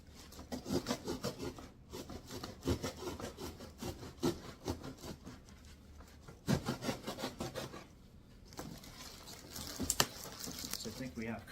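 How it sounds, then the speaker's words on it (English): Cardboard box side being cut open, repeated rasping, scraping strokes in uneven bursts, fairly close, with a voice talking at moments between the cuts. "I'm going to cut down this side of the box."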